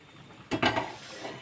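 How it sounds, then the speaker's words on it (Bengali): Light cooking oil swirled around a hot pan before raw fish goes in, giving a brief close sizzle and metallic scrape that swells and fades over a second. "এবার তেলটা আমি সব দিকে ভালো করে ঘুরিয়ে ফিরিয়ে করে নেব"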